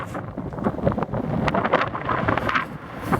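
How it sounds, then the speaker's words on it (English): Strong wind buffeting the microphone in gusty, rumbling bursts on a hillside at Sagehen, California, loud and continuous with no voices. "It's getting windy."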